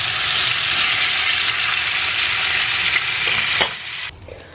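Pike fillets fry loudly in a pan, a strong, steady sizzle that briefly bursts and then drops off sharply as the pieces are turned, leaving a softer hiss at the end.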